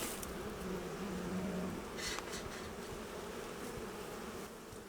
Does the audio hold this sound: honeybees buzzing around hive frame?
yes